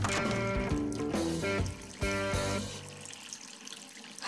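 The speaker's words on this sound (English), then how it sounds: "I must have left it running when I needed some water for my plants." A tap left running in an animated cartoon, heard as a steady stream of water under tonal cartoon music that fades out, leaving the flow alone near the end.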